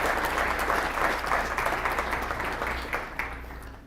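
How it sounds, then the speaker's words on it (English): A civic audience breaks into sustained applause, dense clapping that holds steady at close range before gradually tapering off, with no talking over it. "Let's give them a round of applause as well."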